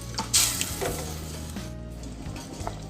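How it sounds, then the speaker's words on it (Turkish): Soup water coming to a boil in a pot for Turkish orzo soup: a soft, steady bubbling sizzle with a brief sharp splash near the start, quiet and close, with no talking. "Çorbam suyu kaynamaya başladı."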